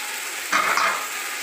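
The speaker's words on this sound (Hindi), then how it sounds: "अब इसको थोड़ा सा भून लूँगी चिकन का" Chicken frying in a pan for chicken pulao gives a close, steady sizzle that swells briefly when stirred, then settles back.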